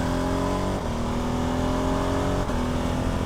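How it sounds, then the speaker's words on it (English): A motorcycle's exhaust and road noise picked up by a budget motovlog microphone while riding: a steady, loud engine drone with harmonic tones shifting slightly in pitch, broad rushing wind and road roar underneath, no voices. "we are picking up a good amount of road noise from below. So you are getting the bike's exhaust"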